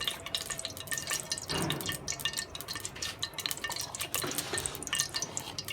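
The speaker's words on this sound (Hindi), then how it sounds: "तो अब हम अदरक लहसुन का पेस्ट डालेंगे 1 चम्मच भर के।" A spoonful of ginger garlic paste hits hot oil for bhuna gosht, giving a soft, steady sizzle and spattering with brief stirring scrapes, close and fairly quiet, without talk.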